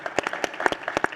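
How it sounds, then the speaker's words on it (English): Applause from an event audience at a talk on Black ownership and AI, heard as a short burst of separate, close claps from a small group, alone with no talk. "Give them a round of applause for that, by the way."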